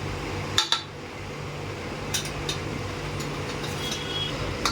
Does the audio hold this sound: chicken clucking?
no